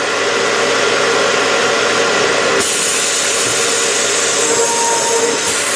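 A Scotchman RFA saw trims the last piece of tubing with a loud continuous mechanical whir and grind that changes character partway through as the cut finishes and the machine keeps running.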